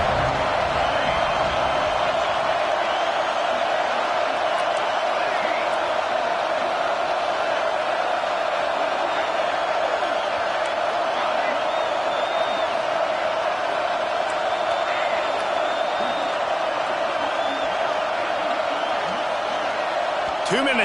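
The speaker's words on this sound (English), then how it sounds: "Decibels rising as the crowd gets behind this defense on third down" Stadium crowd at a football game roaring for the defense on third down, a dense, steady wall of cheering noise that holds loud and unbroken throughout, with no distinct voices standing out.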